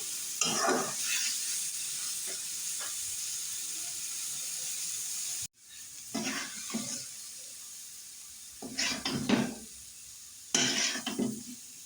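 Fish frying in a pan on a home kitchen stove, a steady bright sizzle and hiss, interrupted briefly, then bursts of crackling and spattering as the pieces are moved, close and alone.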